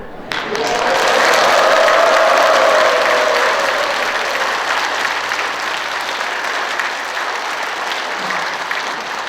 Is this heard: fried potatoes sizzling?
no